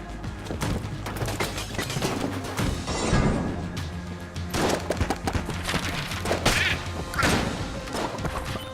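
Enemies burst apart in Enter the Gungeon amid busy game noise: repeated loud crunching blasts and thuds over a dense layer of gunfire and effects, with no voices.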